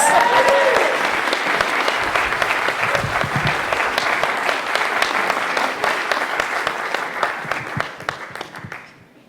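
Audience applause at the close of a talk during an evening event with chef Sean Sherman at Ganondagan: dense, sustained clapping from a crowd, steady and fairly loud, thinning and fading out near the end.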